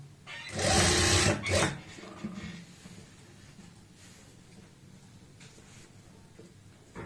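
A sewing machine stitches the lining of a kameez in one loud, close whirring run of about a second and a half, then stops, leaving quiet room sound.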